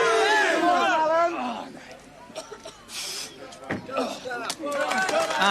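A local crowd at a 1983 World's Strongest Man event in New Zealand cheers and claps for a strongman after a rope pull, loud and mixed with shouting voices, fading, then swelling again near the end.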